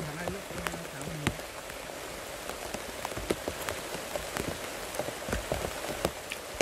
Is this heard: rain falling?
yes